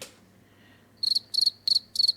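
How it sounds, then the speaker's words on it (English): Crickets chirp in four quick trilled bursts, evenly spaced, high-pitched and clear over a quiet background hum. "The crickets too. Yeah, the crickets."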